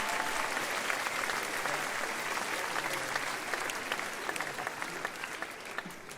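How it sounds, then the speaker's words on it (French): Sustained audience applause after a live show, a dense, even wash of many hands clapping throughout, moderately distant and steady. "je pense qu'on peut l'applaudir"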